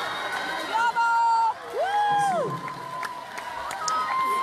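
A live concert crowd in Vitebsk cheering, with whistles and rising shouts over dense crowd noise, and a close voice talking at times.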